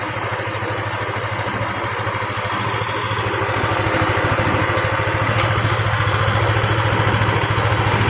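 Yamaha Aerox 155 scooter engine idling steadily up close, a continuous even hum with a light high-pitched whine and no talk over it.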